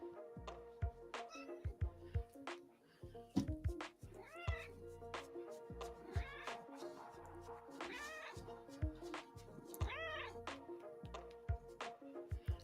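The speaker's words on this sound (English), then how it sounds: "See, I told you, Robin, she's just a chatty catty." A cat meows repeatedly in a lively, chatty run of rising calls, close and fairly loud, with a steady background hum beneath and some faint talk.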